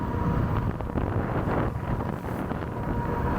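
Steady wind rushes across the microphone while an ENGWE X24 fat tire e-bike rides throttle-only along a flat road, a constant loud broadband roar with no talking.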